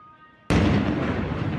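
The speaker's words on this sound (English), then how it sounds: "Tonight, explosions and gunfire in Jenin's refugee camp." After a brief quiet hum, a sudden loud blast erupts in the Jenin refugee camp, followed by a sustained roaring rumble that fades only slightly.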